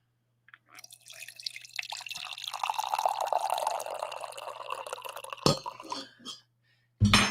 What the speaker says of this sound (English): Let's pour a little more coffee here.